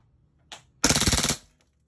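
WE G18c Gen4 gas blowback airsoft pistol, one sharp single shot followed by a rapid full-auto burst of about a dozen crisp cracks lasting under a second, loud and close in a quiet room.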